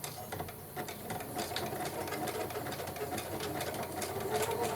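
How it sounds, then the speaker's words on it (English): A sewing machine runs steadily in a zigzag stitch, its fast, even mechanical whir continuing without pause at close range and moderate volume, with no talking. "on your sewing machine, that you're gonna do the zigzag, not the straight."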